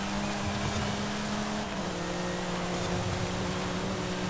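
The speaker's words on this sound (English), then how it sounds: "I think it's a fellow Porsche, I think it's a Cayman." Porsche Cayman race car fitted with a Forza wing in Forza Horizon 5, a steady droning engine hum held at a constant pitch throughout, moderately quiet and continuous with no talk over it.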